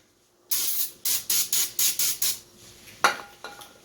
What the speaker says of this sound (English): To clean the rotor, you're going to take your brake clean and a fresh clean rag,